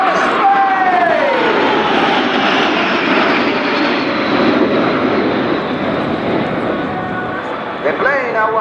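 CASA C-101 jets of the Patrulla Aguila display team roar past in formation at the Royal International Air Tattoo, Fairford, a loud sustained engine wash with a descending whine, heard under an announcer's commentary and crowd noise.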